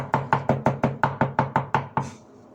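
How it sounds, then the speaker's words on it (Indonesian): A knife chops a garlic clove finely on a cutting board in ten evenly spaced, crisp knocks, close and clear, before stopping. "ini saya tambahkan 1 siung bawang putih, saya cincang halus"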